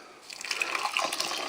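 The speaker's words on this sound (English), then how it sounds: "Then I've got 1 cup here of boiling water." Boiling water pours steadily into a cup, a bright hissing gush that rises after a brief start and keeps flowing.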